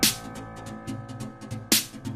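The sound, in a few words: two snare drum samples combined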